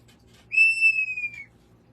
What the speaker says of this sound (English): It's an organ pipe.